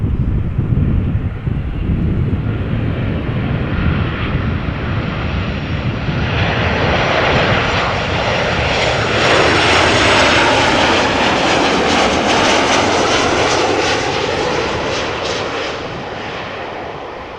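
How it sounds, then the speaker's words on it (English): A Transavia Boeing 737-800 lands at Amsterdam Schiphol, its loud engine roar building steadily and then fading slightly toward the end, with wind buffeting the microphone. "next up is going to be a 737 from Transavia, arriving from Napoli in Italia"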